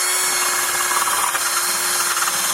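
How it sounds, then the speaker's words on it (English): Brake caliper bolts from a BMW E34 being cleaned by hand, a steady close rubbing and scraping that runs continuously and alone, stopping abruptly at the end. "clean off these bolts a little bit, just so that the pads can slide nicely on the caliper itself"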